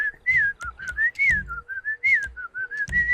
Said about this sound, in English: I can't whistle that well.